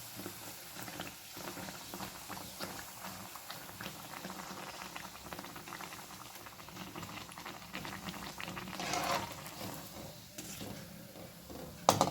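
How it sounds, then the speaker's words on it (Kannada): Mangalore-style banana buns fry in hot oil over a medium flame, giving a steady close bubbling and sizzling that swells slightly toward the end. "ಚೆನ್ನಾಗಿ ಬಬ್ಬಲ್ ಬಂದಿದೆ ನೋಡಿ"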